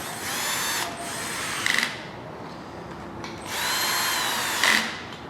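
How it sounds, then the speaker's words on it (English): An electric screwdriver on a low setting snugs Allen bolts on an LS V8 oil pan (5.3L LM7): two close, steady whirring runs, each ending in a short ratcheting clutch chatter. "grab my electric screwdriver on a very low setting and just snug them up"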